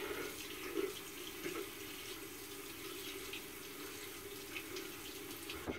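A bathroom tap runs steadily while rinsing off after a shave, a continuous close hiss of water with small splashes, with no talk.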